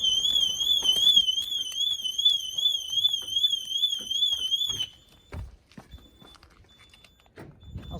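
A motorbike alarm wails in a loud, rapid warbling pattern, then cuts off abruptly partway through, leaving quiet background with faint knocks and shuffling.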